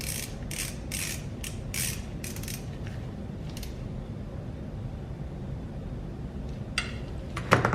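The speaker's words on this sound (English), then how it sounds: "So next we're going to go ahead and reinstall the bottom drain plug" Ratcheting clicks as the bottom oil drain plug is reinstalled on a Suzuki DR-Z400S, bursts of quick mechanical clicking at first, then quieter, with a few sharper clicks and a clank near the end, close up.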